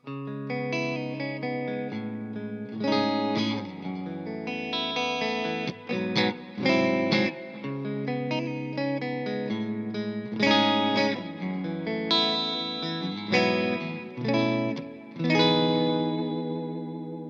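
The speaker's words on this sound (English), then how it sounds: "All the way to super lush split coil sounds like this." Clean electric guitar in split-coil mode playing chords and arpeggios with a glassy, bright tone, lush chorus shimmer and light reverb, sounding alone without any talking.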